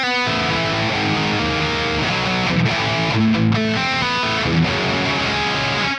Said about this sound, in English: It's more some kind of rock and roll distortion.